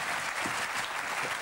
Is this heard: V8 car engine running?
no